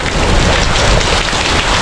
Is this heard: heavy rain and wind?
yes